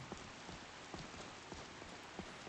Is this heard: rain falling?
yes